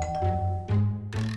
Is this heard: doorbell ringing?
yes